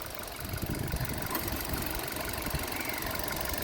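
A 2020 Hyundai Grand i10 Nios Smart Auto with a 1.2 engine and 31k driven idles quietly. It gives a soft, even hum with a faint pulsing texture, close by and alone.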